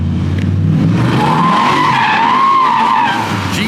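An LS-swapped BMW E46 on its first test drive accelerates hard, tires squealing loudly as the V8 roars and climbs in pitch, the engine and screech dominating throughout with no talk.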